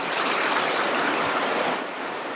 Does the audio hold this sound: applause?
no